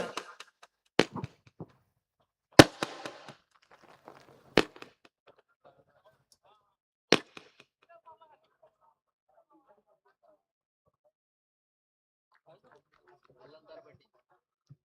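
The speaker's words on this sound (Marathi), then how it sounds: "फटाक्यांची आतिषबाजी होत असताना" Fireworks and firecrackers burst at a local cricket tournament match, sounding as a handful of sharp, loud, widely spaced bangs in the first half before fading. Faint commentary and crowd noise carry on underneath.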